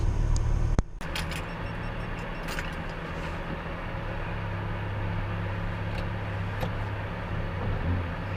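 A Morris Minor car on the move, its engine a steady low rumble with road noise throughout, opening with a brief loud knock before settling into an even drone.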